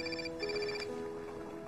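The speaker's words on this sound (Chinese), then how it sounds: "你电话响。" A mobile phone ringtone plays a short repeating electronic melody at a late-night restaurant table, moderately loud and close, with no speech over it.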